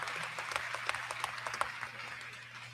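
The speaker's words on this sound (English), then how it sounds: "Absolutely deserving an applause." Applause for the graduating class at a Tiffin University commencement ceremony: dense crowd clapping, steady and somewhat distant, with a few sharper individual claps standing out over a low hum.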